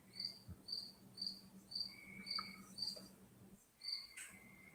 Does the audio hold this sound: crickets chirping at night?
yes